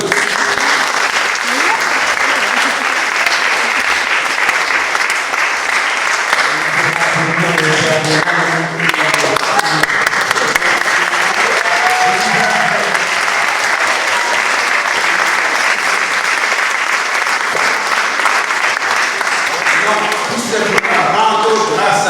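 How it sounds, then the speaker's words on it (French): A church congregation at a Mass applauds steadily and loudly for over twenty seconds, dense clapping filling the nave, with some voices and brief sung or spoken phrases rising underneath. "On vous applaudit."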